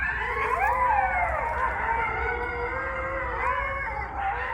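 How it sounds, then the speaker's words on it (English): Red wolves howling at a site in Raleigh, North Carolina, several long wavering, overlapping howls rising and falling together, loud and close, with no talk. "This is the sound of red wolves."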